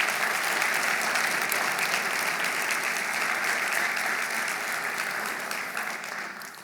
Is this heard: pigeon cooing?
no